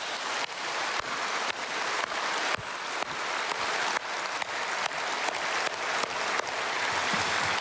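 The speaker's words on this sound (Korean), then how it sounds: "우리 감사의 박수 한번 올려드리겠습니다." A church congregation at a Korean anniversary service claps together in a broad, steady wash of applause, dense and even across the whole stretch with periodic sharper accents, and no one speaks over it.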